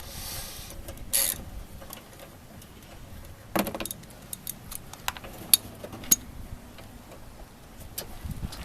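Ratcheting a bumper bolt tight on a 1988–91 EF Honda Civic, heard as faint quick mechanical ticks and clicks with a few sharper metallic clacks, close and quiet with no talking.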